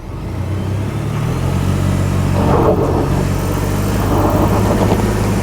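Ford Expedition SUV engine straining up an off-road hill, a loud, steady low drone that rises slightly in pitch as the vehicle climbs, close and continuous.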